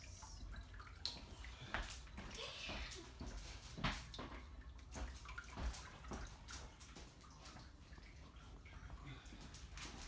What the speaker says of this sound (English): I'm going to take it over here to our very messy sink, and I'm just going to drain all the juices out of it.